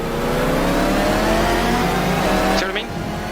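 A steady, buzzy race-car engine note from the Ontimatic E675 in a Le Mans racing game holds at high revs, with a brief pitch sweep near the end as the sound cuts away.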